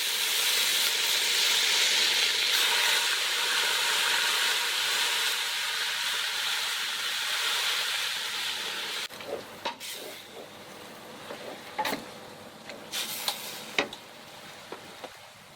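Pork belly dropped into a hot pan for Bicol Express, a loud broad hiss that settles into a quieter sizzle midway, followed by scattered clanks and stirring knocks from a utensil.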